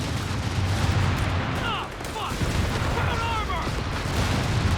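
Tank firing armour-piercing rounds in the strategy game Company of Heroes 3, heavy booming cannon and gunfire blasts over a dense, continuous battle din, with a few whistling and screeching effects.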